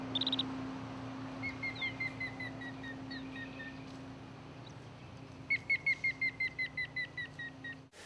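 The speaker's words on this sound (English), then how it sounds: "And the bird starts singing." Birds sing in the UCLA botanical garden: faint, high whistled chirps come in two bursts of quick repeated notes over a low steady background hum.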